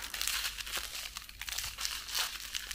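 A plastic packet holding bubble wrap is handled up close, giving repeated crinkling and rustling bursts in an uneven rhythm.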